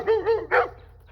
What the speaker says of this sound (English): Right now, I have a dog right here.